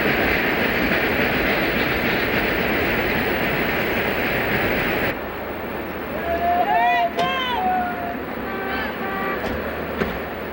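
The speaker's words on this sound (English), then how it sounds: "As the engine comes onto straighter track out of the curve, you can hear the acceleration as the throttle is opened." A Union Pacific locomotive rolling out of a curve onto straighter track, with a loud, dense rumble that drops to a lower steady engine drone as the throttle opens, and high wheel squeals and a horn-like tone rising over the running train.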